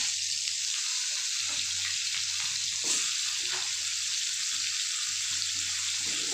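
Cut potatoes dropped into a hot pan of oil with black cumin seeds, giving a loud, even, continuous sizzle with one brief clatter partway through, and no talking.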